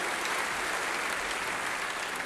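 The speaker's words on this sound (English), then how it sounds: "Give yourselves a big round of applause, people" Sustained applause from the Grand Ole Opry audience, a dense, even wash of clapping from a large crowd that holds steady and loud without a break.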